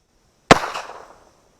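A single sharp report of CCI rat shot fired from a Taurus Ultralight .38 Special revolver, one loud close crack with a short decaying echo tail, alone with no talk.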